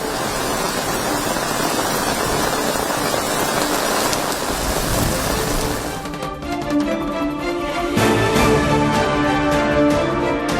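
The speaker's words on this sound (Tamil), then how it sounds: "இன்று 8 மாவட்டங்களில் கனமழை பெய்யும் என்று வானிலை ஆய்வு மையம் கணிப்பு" Heavy rain pours steadily as a dense, loud wash, continuing without a break through the whole stretch with no voices.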